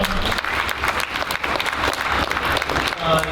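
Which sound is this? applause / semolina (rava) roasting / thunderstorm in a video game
applause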